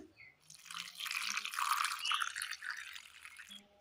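Water poured into a pan while making a vegetable curry with turmeric and green peas, a soft, steady trickling stream running for a few seconds at low volume.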